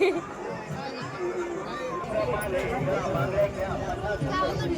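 Dense crowd babble at a village fair (jatra) near a Lakshmi temple in Lasurne, many overlapping voices mingling in a steady, close hubbub without pause.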